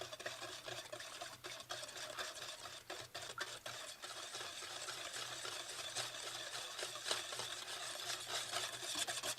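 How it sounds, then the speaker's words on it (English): A whisk stirring queso ingredients for crockpot queso, a steady soft scraping and rubbing with faint rhythmic clinks, close and quiet without talk. "We're just going to kind of whisk this all together."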